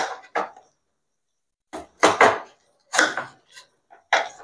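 A knife cuts a pineapple into four pieces, making several distinct, close chopping thuds against a board with short pauses between strokes.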